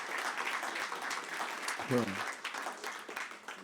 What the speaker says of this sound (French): Donc on peut encore applaudir